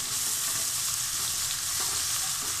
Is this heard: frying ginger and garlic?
yes